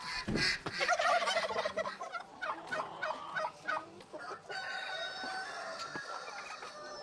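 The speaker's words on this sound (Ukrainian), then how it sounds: "Курочки мене зустрічають з індиками" Turkeys gobble and chickens call in a lively, overlapping barnyard chorus nearby, with short bursts of clucking and gobbling throughout.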